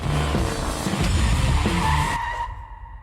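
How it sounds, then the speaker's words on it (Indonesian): A car skids as it brakes hard while racing out of a casino, its tires squealing loudly and close for about two seconds before the screech cuts off and a thinner whine fades. "beruntung Annie mengerem tepat waktu dan gak menabrak wanita hamil."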